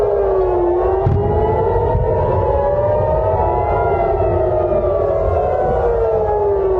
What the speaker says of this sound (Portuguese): Sirenes soaram em diversos pontos do território israelense.